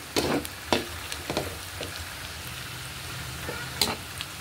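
Meat sautéing in a pan with golden-brown garlic and onions for adobong sitaw: a soft continuous sizzle broken by a few close stirring scrapes and clacks, with no talking.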